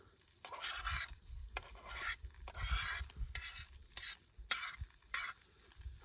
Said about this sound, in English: we have a metal spatula. We have a carbon steel skillet, okay?